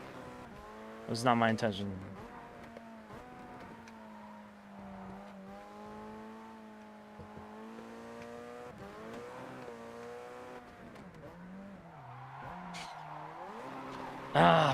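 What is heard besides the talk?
car oversteering from downshifting in a racing video game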